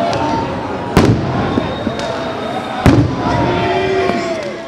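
Fireworks burst over a large crowd gathered in central Timișoara on New Year's Eve, with two sharp loud bangs standing out against a steady roar of the crowd and cheering.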